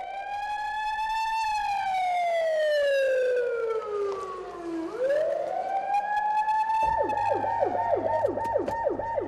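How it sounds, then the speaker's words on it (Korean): A loud wailing siren in a road tunnel under construction warns of imminent blasting, sweeping down and back up in long slow cycles, then shifting to a faster repeating yelp, echoing in the enclosed space. "응급 상황을 알리는 사이렌 소리가 요란하게 울려 퍼진다"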